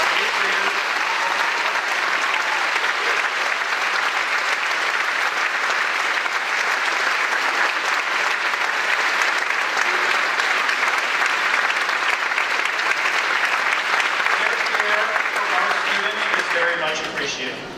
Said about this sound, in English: receive a well-deserved round of applause for their support of our eighth graders